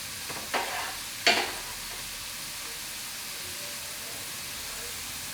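Finely cut bhuna-style onions for a restaurant-style king prawn balti sizzle steadily in a pan, a soft constant hiss broken by two brief stirring scrapes early on.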